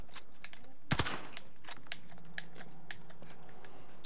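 A burst of gunfire in Call of Duty: Modern Warfare cracks out loud near the start, followed by a quieter spatter of sharp clicks and distant shots over a low background.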